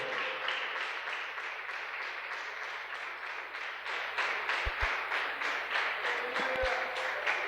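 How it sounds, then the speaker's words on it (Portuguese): A church congregation claps steadily at an evening service, a dense, even wash of many hands that carries on for several seconds with faint voices beneath and a couple of low thumps. "Aplauda o Senhor, meus irmãos, nesta noite."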